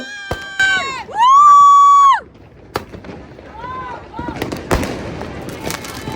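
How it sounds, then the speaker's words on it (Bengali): Fireworks going off on New Year's night, with whistling shells rising and falling, sharp bangs and crackling bursts over a busy crowd of shouting and cheering voices. "সব আতসবাজি ফুটানো শেষ করে"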